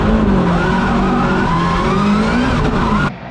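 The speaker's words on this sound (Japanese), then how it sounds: "さあ、踏んでくる下田" A drift car at a D1 Lights round at Bihoku in 2022 revs hard at high engine pitch while its tires skid through a slide, loud and close, before the sound drops off abruptly at the end.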